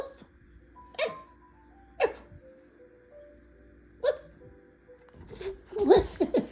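A 14-week-old corgi puppy gives a few short, sharp barks spaced about a second apart, then a louder flurry of yips at the end, with a person talking quietly between them.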